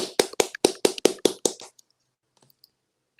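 Brief applause during an online Rotary panel discussion: about seven sharp, separate claps in a steady rhythm, close and clear, stopping after under two seconds, followed by near silence with a few faint clicks.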